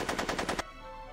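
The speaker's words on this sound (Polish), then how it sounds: "Nie, nie możemy, bo on tutaj strzela." Rapid burst of about six gunshots in quick rhythmic succession from Back to the Future: The Game, loud and close, cutting off abruptly into quiet.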